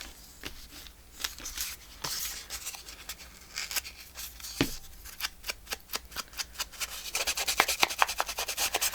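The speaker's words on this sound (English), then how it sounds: "I'm going to rub in the dark espresso color." Dark espresso-colored ink rubbed by hand onto paper pages of a grungy accordion journal, a steady soft scrubbing and rasping that grows into quicker, louder strokes toward the end, close up with no talk.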